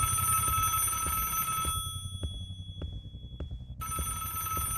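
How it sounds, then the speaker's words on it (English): A very loud phone rings in the video game Little Nightmares, with bright sustained ringing, a brief gap, then the ringing returning, while a low rhythmic thumping pulses steadily beneath it. "that is a very loud phone"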